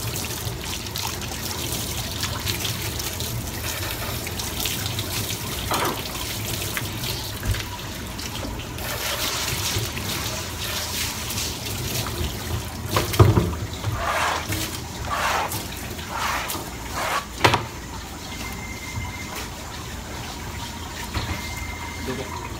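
Skipjack tuna rinsed under a running kitchen tap, a continuous trickle and splash of water with a few sharper splashes and knocks midway, close and moderately loud.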